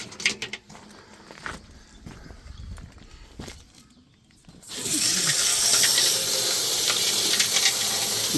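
Water running hard to rinse dirt out, a sudden loud steady gush that starts midway after quieter scattered knocks and handling sounds, close by, no speech.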